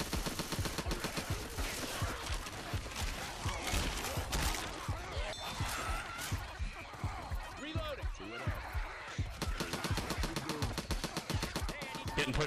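Rapid, dense gunfire from Left 4 Dead 2 co-op play rattles almost without pause, loud and continuous, with brief bursts and overlapping shots throughout.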